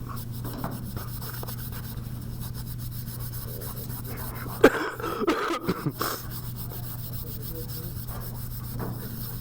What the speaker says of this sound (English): I'm gonna rub it.